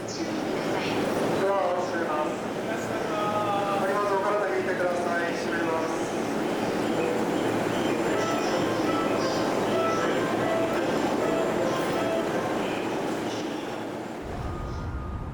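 Continuous rumble of a moving, crowded Tokyo commuter train carriage with a dense murmur of many passengers talking throughout.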